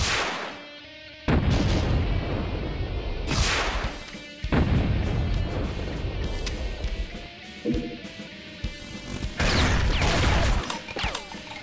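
Brutal Doom II gameplay in a tenements level, with imps flinging fireballs amid loud, continuous booming explosions and gunfire over a dense, heavy backdrop.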